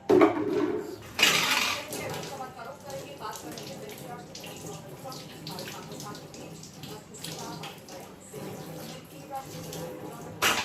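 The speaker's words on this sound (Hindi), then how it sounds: "सब्जियां मैंने ली थी लेकिन वॉश नहीं किया था, तो यहाँ पे सब्जियां पहले धो के रख दूँगी।" Vegetables rinsed under running kitchen water, with splashing, clinking of dishes and intermittent bursts of flow across the clip, while a speaking voice is heard over it.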